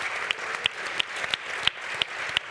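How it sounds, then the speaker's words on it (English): An audience applauds a panelist at a European AI Week event on women in AI, with steady, moderately loud clapping and a few sharper claps standing out. "Please a round of applause for this woman."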